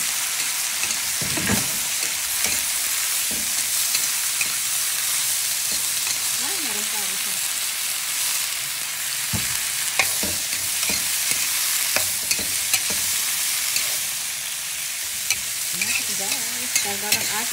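Tomatoes fry in a pan alongside fried milkfish, a steady close sizzle broken by the scrapes and clicks of stirring.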